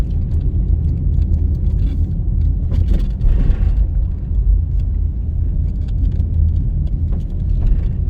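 A car drives along a residential road, its steady low rumble of engine and tyres heard from inside the cabin, with no talking.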